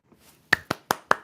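Four sharp claps from a show's sound-effect board, evenly spaced about a fifth of a second apart, crisp and close, with no talking over them.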